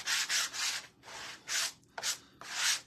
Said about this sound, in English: I'm going to take, like I said, just a sander to it real quick